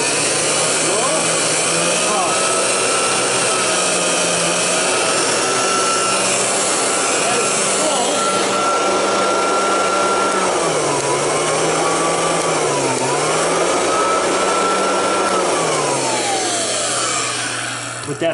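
A vintage GE upright vacuum cleaner runs continuously, its motor giving a loud, steady droning whine that dips and rises in pitch now and then as the machine is pushed along, close by with no pauses.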